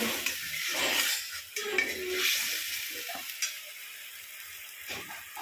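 Spiced masala sizzles in a hot pan with steady scraping and stirring strokes, a close, continuous frying hiss running throughout with no voices.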